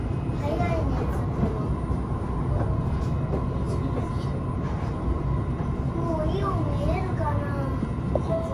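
Continuous low rumble of the Linimo maglev train in motion near Nagoya, heard from inside the car, with a steady hum and a voice talking over it.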